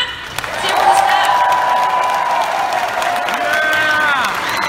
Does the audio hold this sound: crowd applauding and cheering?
yes